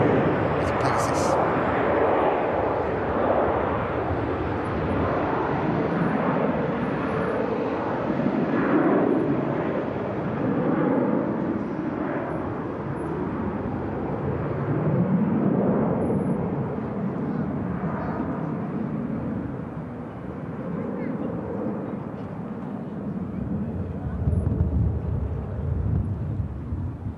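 A jet on a long landing rollout on the runway gives a distant, steady rumble of engine and reverse-thrust noise that swells and eases over a long stretch, with someone speaking at times over it.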